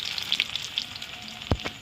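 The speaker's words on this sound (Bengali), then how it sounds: "রসুন কুচি দিয়ে দিচ্ছি" Chopped garlic sizzles in hot oil for soya chilli, giving a soft, steady crackle with light pops and one clear utensil knock near the end.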